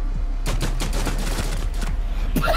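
Rapid automatic gunfire in Rainbow Six Siege, aimed at a wall, rattles in a quick run of loud shots over a steady low hum, ending in a final louder crack.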